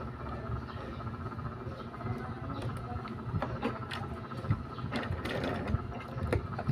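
A sewing machine stitches the edge of a pillowcase from end to end, giving a steady mechanical patter with occasional louder clicks, fairly close and continuous.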